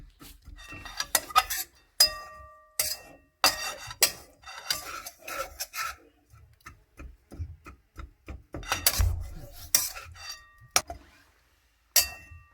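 Mawa stirred into roasted besan in a metal pan with the gas off, an irregular series of close scraping and rasping strokes with spoon clinks against the pan, and no talking.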